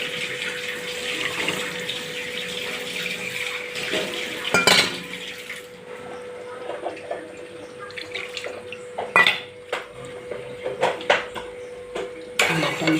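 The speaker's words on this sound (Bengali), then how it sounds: "আমি এক বাটি এখানে জল দেবো।" Water poured from a bowl into a kadai pan with sugar for syrup, splashing and trickling near with clinks of dishes and utensils between pours.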